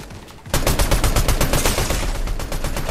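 Rapid gunfire in Fortnite bursts in after a quiet half second, a dense string of loud, evenly spaced shots that keeps going to the end without letup.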